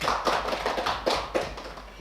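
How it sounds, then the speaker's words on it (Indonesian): A class in a micro-teaching mathematics lesson claps hands in a quick, uneven run of distinct claps, fairly quiet and close, with no talk over it. "Oke, udah tepuk tangan dong."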